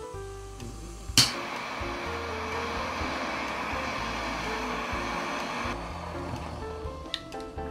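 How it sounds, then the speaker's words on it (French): A kitchen blowtorch caramelizing the top of a Paloma cocktail in a glass: a sharp click of ignition, then a steady, close, roaring hiss of flame for several seconds before it cuts out, followed by a few light clinks. "Vous allez prendre votre chalumeau."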